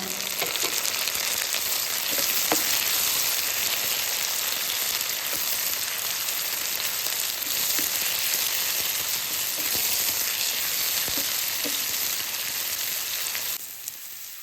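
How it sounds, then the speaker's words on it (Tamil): Tomatoes and onions fry together in a pan for a capsicum gravy, making a constant, dense crackling sizzle up close that barely changes throughout and eases slightly at the very end. "இப்போ பாருங்கள் தக்காளி நல்லா வறுபட்டுருச்சு"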